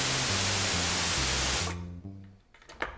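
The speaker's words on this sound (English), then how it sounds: "white noise," Bright, steady hiss of white noise from a modular synthesizer noise generator fills the first half, then cuts off abruptly, leaving a low hum and a few faint clicks.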